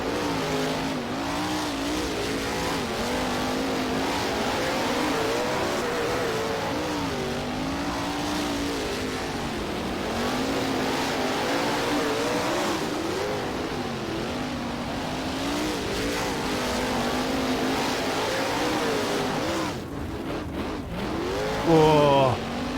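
Sprint cars racing at Premier Speedway in rFactor, a steady loud drone of high-revving engines with wavering pitch as the cars circle, occasional tire squeal, continuous throughout.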